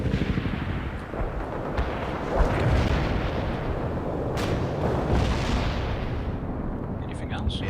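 Artillery fire in the World in Conflict video game: dense rolling booms and blasts pound continuously and loudly, with a voice talking over the bombardment.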